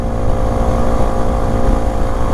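A BMW 1250 GS motorcycle engine drones steadily while riding, a loud, continuous low rumble mixed with wind noise and no pauses or talk.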